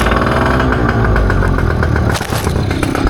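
A boat's outboard engine runs steadily after a carburettor clean and fresh fuel, a loud, close, even mechanical drone that shifts briefly near the end.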